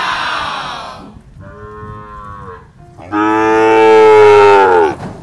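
Cattle bought for raising and slaughter on a Philippine farm moo loudly and close. A shorter call is followed by a long, deep, drawn-out moo, with no talking.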